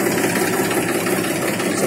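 A 1999 Mahindra 265 DI tractor engine idles cold with a steady, continuous low rumble and even mid-range drone, close by and alone with no talk.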